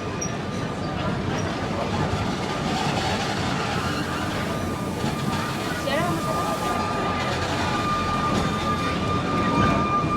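The busy Sóller tram runs along its rails through town as a continuous rolling rumble with faint squeals, under nearby voices.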